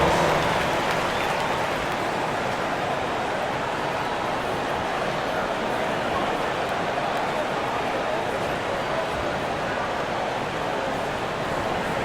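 Arena crowd applause in the NBA 2K25 basketball video game, a steady, dense wash of clapping and crowd noise holding at an even level for the whole stretch.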